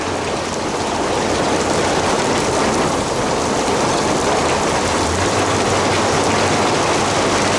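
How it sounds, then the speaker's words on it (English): Heavy rain pours down steadily, a dense, loud, unbroken hiss of water drumming on surfaces with no letup. "the rain is coming down hard"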